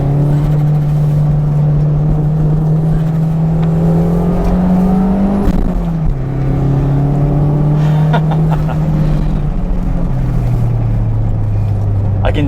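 A Toyota MR2 Turbo with a limited-slip differential drives a mountain road, its engine droning loud and close with a steady tone that rises, dips at shifts, and climbs again under load.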